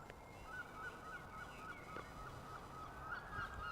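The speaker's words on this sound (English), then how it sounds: "We hear some birds there in the distance." Distant birds honk and call faintly on and off over a steady outdoor background hum at the ruins of Glastonbury Abbey, England, with no one talking.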